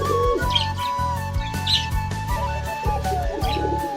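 Red pigeons calling near a nest with chicks: repeated low, throaty cooing pulses in a steady rhythm, close by, with occasional higher chirps over a faint background hum.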